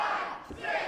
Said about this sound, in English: The crowd counting down with him.